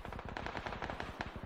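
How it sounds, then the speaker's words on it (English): Rapid automatic gunfire in the PUBG battle royale game on the Karakin map, a dense burst of repeated shots firing in quick rhythm for over a second, loud and close, with no talk over it. "Ooh, I'm getting shot at."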